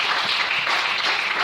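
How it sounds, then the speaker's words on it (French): Congregation clapping during a French-language church service acclaiming the Lord, a steady dense wash of applause throughout, fairly close and loud. "Est-ce qu'on peut acclamer le Seigneur?"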